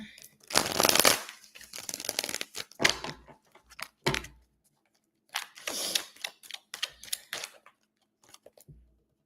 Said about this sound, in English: Why is it telling me to shuffle again?